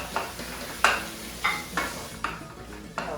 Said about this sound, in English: Mix that together and combine all the tomatoes with the beef.